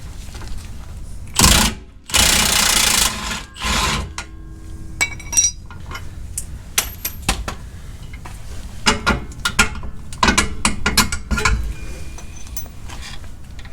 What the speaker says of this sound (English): Running long extensions on an impact isn't always a great idea, but if it works, it works.